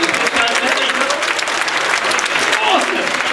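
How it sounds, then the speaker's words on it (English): Loud, dense audience applause fills a science show hall, a steady wash of many hands clapping throughout, with some voices and cheers mixed in. "give one more round of applause"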